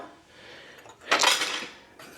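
A spoon scrapes and clinks around a pot as whiskey is stirred into a cooked-down sauce, a brief burst of metallic scraping with soft quiet before and after.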